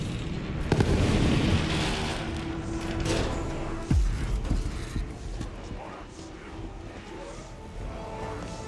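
Gunfire in the video game Borderlands 3, with booming shots and blasts over a dense, loud game soundscape while character voices talk throughout.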